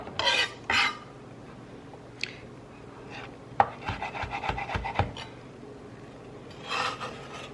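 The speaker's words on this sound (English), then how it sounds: "I'm going to add my shallots into my container" Scraping and rubbing sounds as chopped shallots are pushed off a wooden board into a container, a few sharp scrapes at the start and end with small clicks and taps between.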